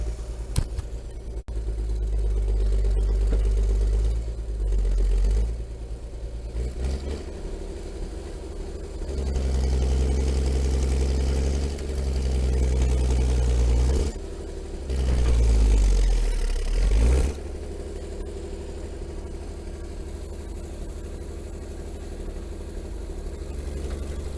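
Engine of a vehicle pulling a winter freight sleigh in deep snow, running steadily close by and rising in several surges as the throttle opens, then dropping back to a low idle.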